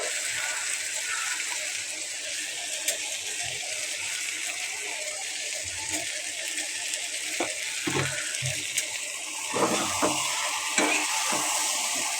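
Onion and green chilies sizzle in a pan of softened okra, a steady frying hiss with a few stirring knocks and clatters, louder near the end.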